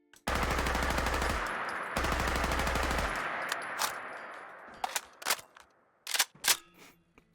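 Handmade assault rifle in Fallout 4, fired in a sustained rapid automatic burst that is briefly interrupted, then followed by a series of crisp metallic clicks and clacks from the magazine swap and bolt.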